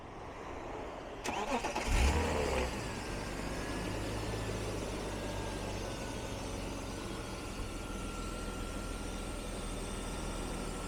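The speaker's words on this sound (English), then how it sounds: "M-Power inline six-cylinder engine. Let's hear it. And yes, this is a cold start." A 1999 BMW E36 M3 convertible's M-Power inline-six fires up from cold with a crank and catch, flares briefly, then settles into a smooth, steady idle heard close by.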